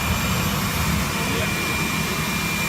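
A forge supercharged with air blown in by a shop vacuum, giving a loud, steady jet-like roar that fills the whole moment without letup, with voices talking over it.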